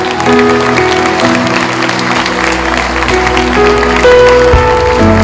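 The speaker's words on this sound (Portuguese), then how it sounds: "Você vai correr enquanto a igreja aplaude você, Jesus." A church congregation applauds continuously over loud music with sustained chords, the clapping steady throughout.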